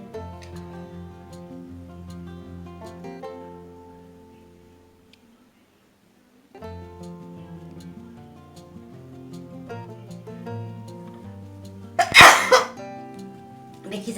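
A single sharp, loud sneeze bursts out near the end after long stretches of quiet background music, triggered by tickling the nose with hair in a fan.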